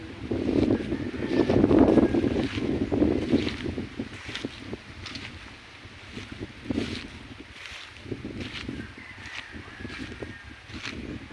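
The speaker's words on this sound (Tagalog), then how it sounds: "Sarap ng hangin." Gusty wind buffets the microphone with low rumbling and rushing noise, strongest early on, then settling into a steadier breeze, in the countryside near a small rice field.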